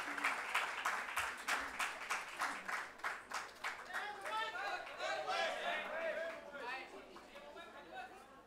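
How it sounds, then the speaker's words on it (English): A book launch audience claps in a burst of lively applause that fades after a few seconds into crowd chatter and voices in the hall. "A very big round of applause for him."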